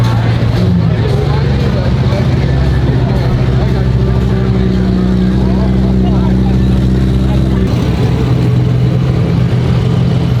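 Supercar engines idle and rumble together as cars start up for rollout at the Goldrush Rally, a steady loud low drone of multiple engines with occasional revs, and voices talking over it.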